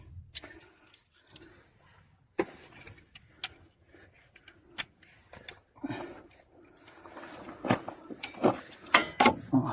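Car brake caliper being removed with a wrench, with scattered metallic clicks, clanks and jangling tools up close, growing busier and louder toward the end.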